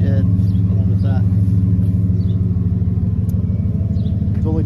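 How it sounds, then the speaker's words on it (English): Steady low engine rumble from the dual exhaust of a 2010 Ford F-150 idling up close, continuous and loud throughout. "Dual exhaust, sounds great."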